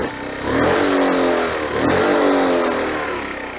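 A 1982 Honda C70 Passport engine with a freshly rebuilt carburetor revs up twice in strong, rising surges, settling back briefly between bursts, loud and close with no talking.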